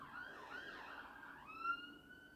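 A wailing ambulance siren sweeps up and down, then settles into a steady high tone, faint and somewhat distant.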